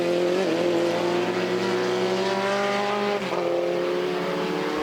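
Honda S2000 race cars in an SVRA race at Mid-Ohio run through a right-hand corner, their engines droning loudly and continuously with steady revs and slight pitch shifts as the cars follow one another.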